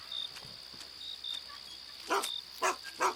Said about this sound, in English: Trust the dog. He'll bark when the machine needs your touch.